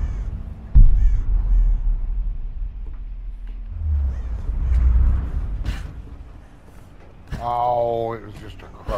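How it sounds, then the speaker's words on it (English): A crow caws in the video game Tomb Raider Definitive Edition, a clear harsh call standing out near the end over game ambience and low rumble, with a voice talking earlier. "Oh, it was just a crow."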